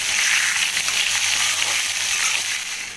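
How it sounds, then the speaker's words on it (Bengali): Pointed gourd slices dropped into hot oil give off a steady, dense hiss of frying, loud and close, holding evenly for a few seconds and easing slightly at the end, with no voices. "তেলটা গরম হয়ে গেছে। এবার আমি আস্তে আস্তে করে ছেড়ে দিলাম। পটলগুলো খুব হালকা লালচে আভা করে ভেজে নেব।"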